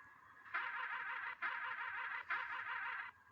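A truck horn sounds in three long, loud, buzzy blasts of roughly a second each, separated by short gaps, close by and with no voices.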